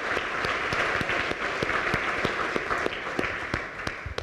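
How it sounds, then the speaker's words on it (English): A university audience at a start-up challenge grand finale applauds, a steady dense roar of many hands clapping with sharper individual claps standing out near the front. "Let's give a round of applause to everybody that's helped out with this fantastic week."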